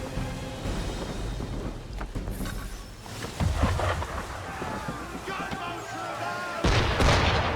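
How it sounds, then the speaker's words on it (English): Ship cannons fire in Assassin's Creed 3, a series of deep booming blasts rolling over wind and rumble, with heavier shots near the middle and end of the stretch. "Why is he shooting at us?"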